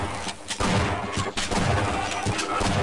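Rapid, loud bursts of gunfire in the video game Half-Life, several close shots fired in quick, uneven succession against a dense game backdrop.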